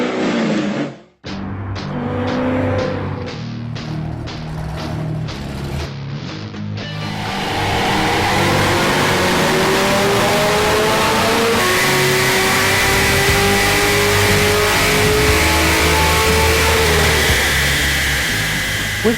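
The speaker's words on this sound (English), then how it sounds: "strap that Z06 to the dyno and get some baseline numbers" A Corvette C6 Z06 with an LS V8 revs hard on a chassis dyno, cutting in after a brief drop, then a long climbing pull that holds at high rpm, loud and close with no talk.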